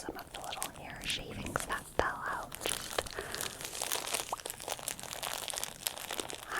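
A thin plastic bag crinkles and rustles close up as small hair shavings are dropped into it, soft irregular crackles running steadily beneath quiet whispering.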